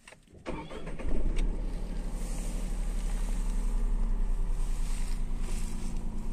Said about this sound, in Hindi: ये स्टार्ट हो गया अब इसका इंजन।